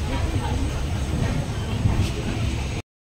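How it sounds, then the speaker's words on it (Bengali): Steady rumble and rattle of a moving train from inside a carriage, a continuous loud low roar with faint voices mixed in. "চলো ট্রেন ছেড়ে দিয়েছে, আমরা বসে পড়েছি"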